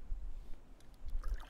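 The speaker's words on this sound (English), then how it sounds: "Inflatable kayak. I'm just using my oar to steer." An inflatable kayak in Dorcas Bay, Tobermory, with an oar dipping and swishing through the water in a few faint, close strokes under light wind.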